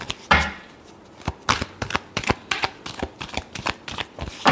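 Tarot cards being shuffled by hand, a rapid series of close, crisp riffling slaps and flicks in uneven bursts.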